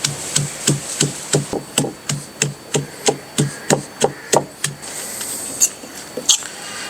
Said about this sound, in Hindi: अब सारी चीज़ों को अच्छी तरह कूट के इनका पेस्ट बना लेंगे।